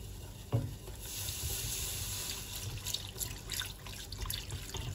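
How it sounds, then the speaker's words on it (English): Vegetable stock being slowly whisked into melted butter in a pot for broccoli cheddar soup, a steady close liquid swishing and sizzling with a brief clink near the start, no talking. "now I'm gonna slowly add my vegetable stock while whisking the whole time"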